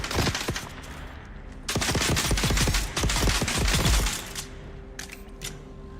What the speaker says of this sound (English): I like the accuracy of these pistols.